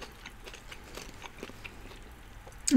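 Close, soft crunching bites and chewing of crisp vegetables in a doner kebab, a few irregular crackly bursts with no talking.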